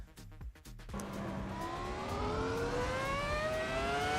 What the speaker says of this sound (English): This car sounds fantastic.